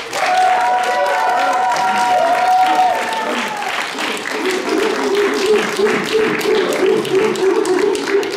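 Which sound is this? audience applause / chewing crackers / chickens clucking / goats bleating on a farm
audience applause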